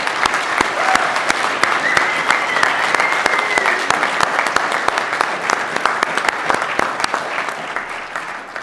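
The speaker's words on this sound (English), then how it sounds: "why don't we give one more round of applause to everybody who's graduated" A crowd at a graduate recognition ceremony applauds the graduates, sustained clapping with distinct sharp individual claps standing out near the microphone, moderately loud and unbroken.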